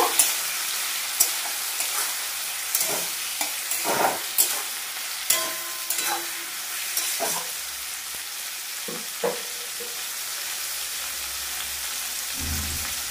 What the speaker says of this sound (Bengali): তারপর এটা নাড়তে থাকবো হালকা করে, এভাবে নেড়ে চেড়ে নেব